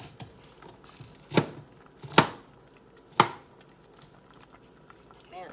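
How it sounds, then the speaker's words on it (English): A knife cuts kernels off a corn cob in three distinct, evenly spaced crunchy strokes, close and fairly quiet, with soft handling noise in between. "Knife might get stuck if you cut in too far."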